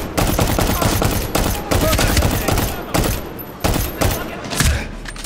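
Rapid gunfire from the shooter game Medal of Honor: Warfighter rattles out in dense repeated bursts, loud and continuous through a chase sequence.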